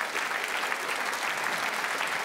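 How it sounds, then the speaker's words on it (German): Steady, dense applause from a studio audience at a satirical TV comedy show, a full and even wash of many hands clapping with no voices over it. "Da klatschen die Säufer."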